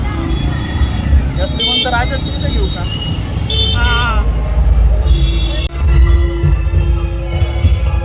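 Busy street traffic in Nashik during the Ganpati festival, with engines rumbling close by and several short horn toots from cars and motorcycles; people talk over the noise.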